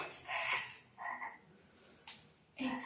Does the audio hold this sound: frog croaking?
yes